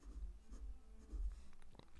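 A pen writes out fraction working by hand, a steady low scratching of strokes that comes and goes in short bursts, close and fairly quiet with no talk.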